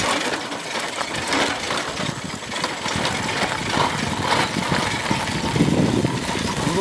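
A motorbike engine chugs along at low, uneven revs on a village mountain road near Salem, its rough running mixed with road and wind noise, moderately loud and close.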